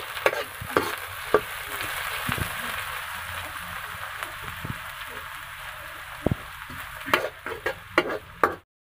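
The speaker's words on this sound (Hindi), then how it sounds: "हाँ इनमें असीं बसर शामिल कंदासीं असांजी कुकिंग ऑयल में।" Onions sizzle steadily in hot cooking oil for a hotel-style karela chana dal fry, with a continuous near frying hiss broken by occasional sharp clicks and crackles of stirring.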